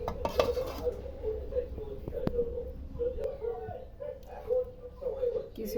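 Chana dal lentils stirred in a cooking pot and covered with a lid; light metallic scrapes and clinks of a utensil and lid come through close up over a steady kitchen hum, with a voice talking.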